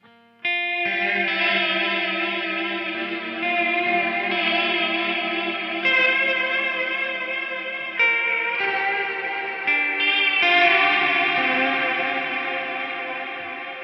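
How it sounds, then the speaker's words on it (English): A sustained, shimmering guitar chord through a Walrus Audio SLÖTVÅ reverb pedal washes out in a large, wavering reverb, its pitch gently warbling, with new notes swelling in every couple of seconds. "I find the wibbly wobbliness sounds better the more reverb you have"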